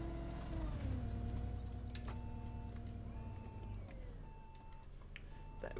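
A London double-decker bus in OMSI 2 on Route 24 near Victoria sounds a stop-request signal, repeated short electronic beeps over the low hum of an idling engine.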